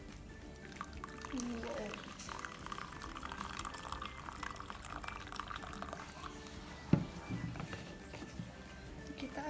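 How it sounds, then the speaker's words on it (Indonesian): Hot water poured into a pot while preparing a dish, a steady liquid splash running through the clip beneath close conversational speech. "Terus kita kasih air panas."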